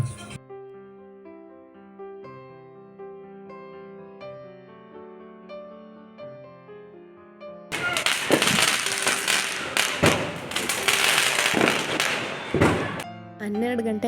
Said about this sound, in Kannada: ಹನ್ನೆರಡು ಗಂಟೆ ಆಗಿದ ತಕ್ಷಣ ಆ ಪಟಾಕಿ ಸೌಂಡ್ ಏನು ಬರುತ್ತಲ್ಲ